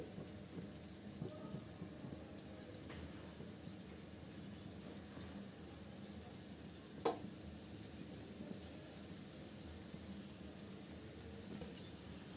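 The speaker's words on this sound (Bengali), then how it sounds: "আমি বাকিগুলো এক এক করে সব দিয়ে ভেজে নিচ্ছি" Potato-stuffed flour snacks fry in hot oil, giving a quiet, steady hiss and crackle that runs unbroken throughout, with an occasional faint tap and no talking.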